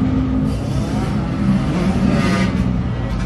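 Dirt bikes revving on a city street, a loud, continuous engine drone with a steady low rumble that swells slightly in the middle, close by, with no talking.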